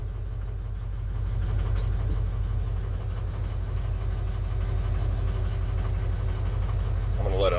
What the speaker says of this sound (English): Let it idle a little bit.